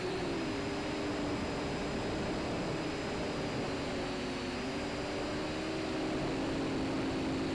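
A Syma X11C quadcopter drone flies with a steady, continuous motor whine and buzz. The sound holds near and even throughout, with no speech.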